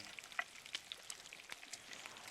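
Food fries while cooking in the pirate video game Sea of Thieves, giving a faint, wet crackle of scattered pops and sizzles, soft and continuous like frying in oil.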